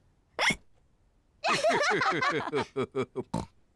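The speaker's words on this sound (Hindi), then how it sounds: "जॉर्ज ने अपना जूस जल्दी से पी लिया और अब उसको हिचकियां लग गई हैं।" George, a cartoon pig in Peppa Pig, gives a sharp single hiccup after gulping juice too fast while camping, followed by a run of short grunting, hiccup-like bursts in a cartoon voice, close and clear.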